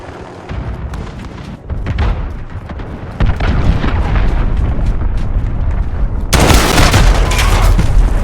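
Cruise missile explosions in Call of Duty Modern Warfare multiplayer, a dense run of loud, overlapping booms and rumbling blasts that build up and grow heavier toward the end, with no talking.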